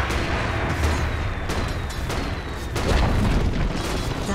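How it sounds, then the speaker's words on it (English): Tower destruction in Dota 2, a series of heavy booming impacts and crumbling blasts over a noisy battle background, with a louder swell of rumble near the end. "Dire's bottom tower has been destroyed."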